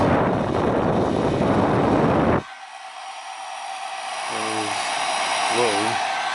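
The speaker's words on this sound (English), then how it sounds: "A hairdryer." A vintage Sears 1200 hair dryer on its low setting gives a loud rushing whir that drops abruptly after a couple of seconds to a softer, steady airy hiss while someone speaks over it.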